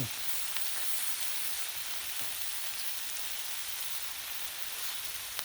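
Sirloin steak sears on a hot griddle with a steady, loud, broadband sizzle that holds evenly throughout, with faint crackles and no voices.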